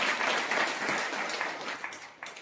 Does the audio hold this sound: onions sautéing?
no